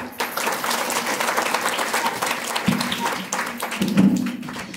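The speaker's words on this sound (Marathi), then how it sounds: "त्यासाठी सर्वप्रथम आपण टाळ्या वाजवूया त्यांच्यासाठी." Crowd at a Shiv Jayanti celebration clapping steadily in a sustained round of applause, fairly loud and continuous with a brief swell near the end.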